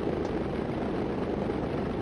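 Small propeller plane in the Stunt Island flight game at full throttle, a steady loud buzzing drone that holds constant for two seconds with no voices.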